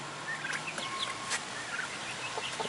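Backyard fowl around a custom coop, including Cornish X Rock chickens, cluck and gobble in short scattered calls at moderate distance over a steady outdoor background.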